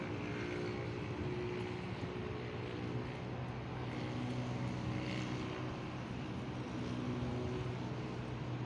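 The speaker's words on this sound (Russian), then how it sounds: "Oh, another plane." A propeller airplane drones overhead in Paraguay, a steady, moderately loud engine hum that holds evenly throughout with no other sounds.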